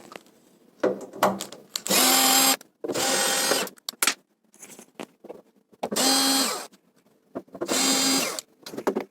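A cordless screwdriver whirs in four separate bursts while removing the four screws from a combi boiler's inner cover, each run short and close with pauses between.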